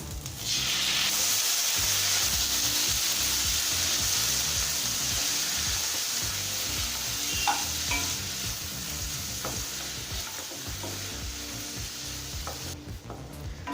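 Tomatoes hit a pan of sautéed shallots for moong dal sambar, setting off a loud, dense, continuous sizzle with faint stirring movement. It stays steady and close throughout, with no speech.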